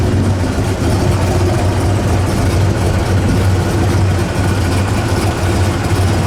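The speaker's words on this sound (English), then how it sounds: "This car's been idling here about 15 minutes. It hasn't missed a beat." A 1970 Pontiac GTO Judge idles steadily at close range, its deep, even engine rumble holding without a miss or a change in pitch for the whole stretch.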